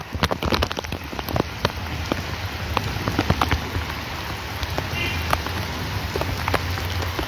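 Heavy rain pours steadily in a mountain setting, a dense, continuous hiss filled with sharp drip and splash impacts throughout, loud and close with no speech.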